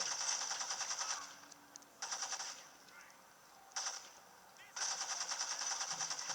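Rapid automatic gunfire during a casino shootout in the video game Gangstar Vegas, fired in several bursts of a second or so with short quiet gaps, fairly faint overall.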